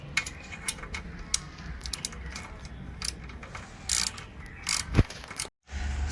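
A bolt is tightened back into place over a washer with a ratchet, producing scattered sharp clicks and short ratcheting bursts at close range, irregular in rhythm, with a brief moment of near silence near the end.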